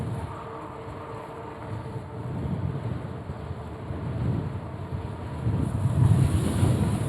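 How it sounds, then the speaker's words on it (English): Wind gusts over the microphone during a bike ride along West Beach Boulevard in Gulf Shores, a low rumbling buffet that swells and eases in waves and grows strongest toward the end. "with this dadgum wind, it's not particularly as bad as I thought it would be"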